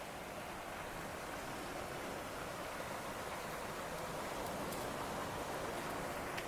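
Steady rain falls outside a house, a soft, even hiss with no breaks or distinct drops, faint and continuous throughout.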